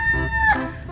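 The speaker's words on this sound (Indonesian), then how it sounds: "ini ada ayam berkokok" A toy animal plays a short, loud electronic rooster crow, one quick cock-a-doodle-doo heard close and alone.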